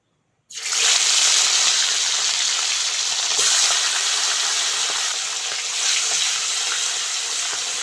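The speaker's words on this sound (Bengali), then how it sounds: "কড়া ভালোভাবে গরম হয়ে গেছে কড়ার মধ্যে তেল দিয়ে দেবো" Hot oil in a kadai sizzles for a masala fish curry, bursting in suddenly and loudly, then holding as a dense, steady crackling hiss close by, with no voices.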